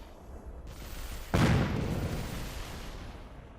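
Artillery missile barrages fire in the video game Mechabellum, heard as a sudden loud boom followed by a rumbling, decaying wash of explosions over a low steady background.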